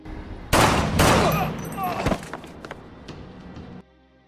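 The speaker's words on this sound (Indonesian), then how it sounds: "Susan malah menembak 2 pengawal Wilcott." Gunfire erupts in a tense Prison Break television scene, with two sharp, loud shots close together followed by a burst of further cracks and clattering reverberation that trails off into quieter room tone.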